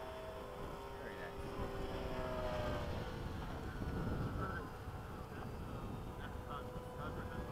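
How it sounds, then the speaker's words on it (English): A full-size Piaggio Avanti turboprop passes overhead at a model aircraft field. It gives a faint, distant, steady drone that swells slightly and fades over several seconds. "Whoa, Avanti coming over."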